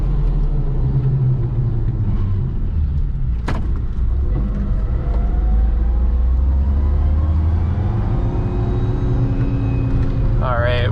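A turbocharged 1990 Suzuki Jimny drives along with a loud, steady engine drone and low road rumble, heard from inside the cabin. A sharp click stands out partway through, and the pitch rises near the end.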